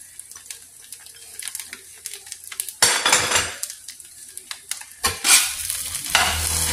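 Fried rice with spring onion being stirred in a pan: close, gritty scraping of a utensil against metal with a steady sizzle underneath, and two louder bursts of vigorous stirring near the middle and end.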